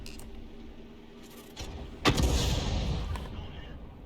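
An artillery gun carriage fires in a World of Tanks-style tank game: a single sharp, loud blast at about two seconds, followed by a rumbling tail, after quieter clicking and mechanical sounds.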